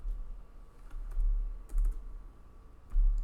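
Keystrokes typing a short search term into a WordPress search box, a few soft bursts of clicks separated by pauses, close and quiet with no talking.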